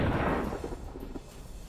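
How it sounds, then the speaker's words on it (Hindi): An explosion follows an air defense interception of Russian missiles over Ukraine: one deep boom at the start that decays into a low, lingering rumble. "एयर डिफेंस सिस्टम से रूसी मिसाइलों को मार गिराने के बाद धमाके दूर दूर तक सुनाई दिए।"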